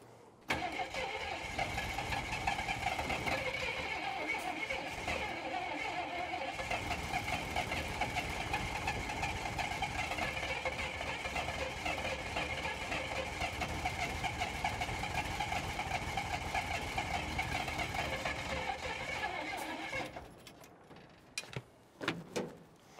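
A 1979 Jeep Cherokee Golden Eagle engine with slightly off timing runs loud and steady for about twenty seconds as the throttle is worked from inside, then shuts off, leaving a few faint clunks.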